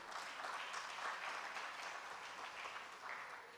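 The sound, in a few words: audience applause in conference hall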